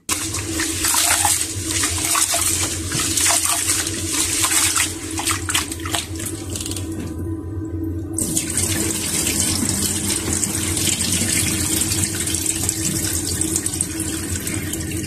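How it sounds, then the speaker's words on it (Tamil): Rice rinsed several times in water and then drained in a kitchen: continuous splashing and running water, loud and close, with a brief quieter break in the middle before the flow resumes. "3-4 தரம் வந்து அரிசியை கழுவி அந்த தண்ணியெல்லாம் நல்லா வடிகட்டிட்டு"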